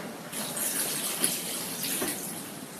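Water pours steadily into a cooking pot for vegetable beef soup, a continuous close splashing gush that holds without pause and with no talk.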